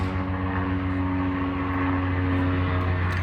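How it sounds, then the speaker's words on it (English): Aircraft drone passes overhead with a steady, loud rotor and engine hum and strong low tonal lines, heard alone without speech. "Now I've got helicopters."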